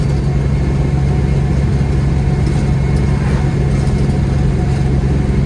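A Peterbilt 379 truck's engine drones steadily while driving, a loud continuous low hum with road noise and no breaks.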